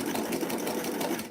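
A sewing machine stitches a knit T-shirt, giving a close, steady, fast mechanical whir that runs without a break and with no talking.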